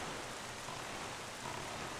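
Steady, dense rain hisses continuously in The Legend of Zelda: The Wind Waker HD, a constant wash of falling drops with no voices.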